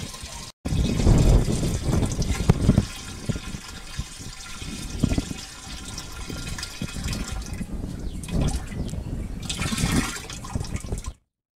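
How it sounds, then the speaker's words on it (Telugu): Ginger-milk herbal brew (sonti pala kashayam) poured into a 200-litre drum of water for a crop spray, a loud continuous gushing pour with surging splashes close by for about eleven seconds, cutting off at the end. "తయారైన సొంటి పాల కషాయాన్ని 200 లీటర్ల నీటిలో కలుపుకోవాలి."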